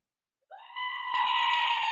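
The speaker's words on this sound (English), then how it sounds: "Warning, screaming goat." A screaming goat sound effect: a single loud, sustained nasal bleat rises suddenly out of silence and swells into a harsh, human-like scream for over a second, close and alone.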